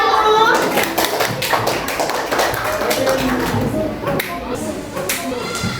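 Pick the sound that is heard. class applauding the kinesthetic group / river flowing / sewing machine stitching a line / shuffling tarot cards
class applauding the kinesthetic group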